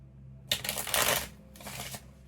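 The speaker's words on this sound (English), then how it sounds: "I'm going to shuffle this tarot deck so we can get more information." A tarot card deck is shuffled by hand in two riffling bursts, a longer one and then a shorter one, crisp and close with no talk over it.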